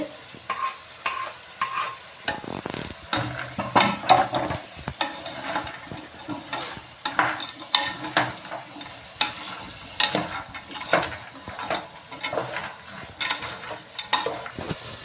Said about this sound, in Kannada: ಟೊಮೊಟೊ ಕೂಡ ಹಾಕೋತಾ ಇದ್ದೀನಿ